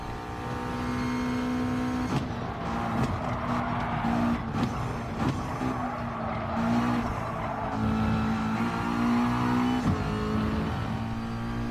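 Race cars in Gran Turismo Sport lapping Suzuka, including a McLaren chasing an Audi, with a steady loud engine drone and gear shifts, plus brief tyre squeals and skids throughout, no talk.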